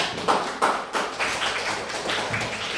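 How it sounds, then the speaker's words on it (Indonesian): Scattered hand claps from a small group at an Indonesian class presentation, a few sharp separate claps followed by softer, looser clapping, close and fairly quiet. "Kasih tepuk tangannya"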